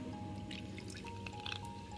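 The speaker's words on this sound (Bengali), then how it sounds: "এবার এটার ভেতরে একটু পানি মিক্স করব।" Water poured into a ground spice mix of cumin, coriander and black pepper for tawa chicken, a light trickling pour with drips and small clinks, quiet and close.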